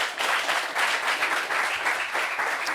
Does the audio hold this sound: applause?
yes